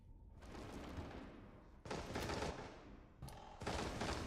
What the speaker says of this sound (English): Bullets flying through everywhere.